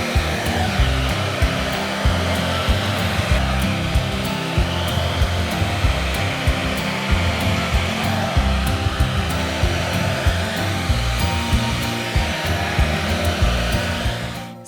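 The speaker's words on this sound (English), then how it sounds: "keep the drying concentrator on and use a paddle brush to smooth through that bottom section until it's almost completely dry" A handheld hair dryer fitted with a concentrator nozzle blows steadily for the whole stretch while drying medium-length hair smoothed with a paddle brush, a loud, close, even roar with faint brush movement and no talking.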